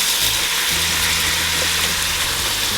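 Wine poured into a hot pan to deglaze it sizzles loudly and continuously, a dense close hiss with a low steady hum beneath.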